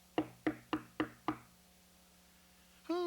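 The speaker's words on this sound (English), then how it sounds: "Oh, it sounds as if there's someone at my door." Five sharp, evenly spaced knocks on a door ring out close and alone, followed by a pause and then a brief voice.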